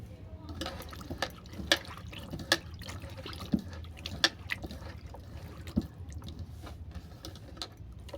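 Potatoes and jute leaves are washed by hand in a bowl of water, with intermittent splashes, drips and sloshing close up.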